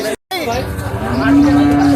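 A cow at a crowded cattle market lets out a loud, close moo that rises and then holds a long drawn-out tone, standing alone over the market's background hubbub.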